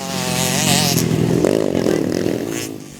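A motocross motorcycle on a dirt circuit in Seleman village, Semidang Aji, revs loud and close, its rising engine note climbing then dropping as it passes, with a second burst of revving near the end.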